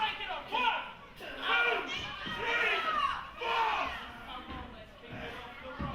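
A crowd at an international singles wrestling match, a fairly faint, muffled wash of chatter and scattered shouts swelling and fading throughout, with children's voices prominent in the mix.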